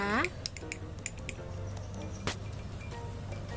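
A spoon scrapes sweetened condensed milk out of its container into an iced Ovaltine mixture, giving a few sharp metallic clinks and soft scrapes up close, followed by quieter handling.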